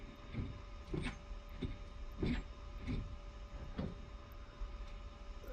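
Rhythmic mechanical pumping from a P-47 Thunderbolt engine primer in the DCS flight simulator, about eight spaced strokes over a steady low cockpit hum, fairly faint and with no talking.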